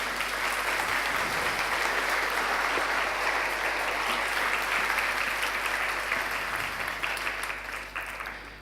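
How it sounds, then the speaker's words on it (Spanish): A church congregation applauds together, a dense, sustained burst of clapping that holds steady for several seconds before gradually thinning out. "¿Por qué no le dan un aplauso al Señor por eso?"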